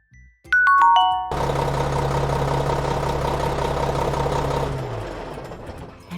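A truck engine rumbles steadily and loudly for several seconds, following a brief ding-dong chime, then cuts off near the end.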